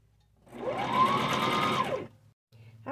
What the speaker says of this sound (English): Now I'll just start sewing around.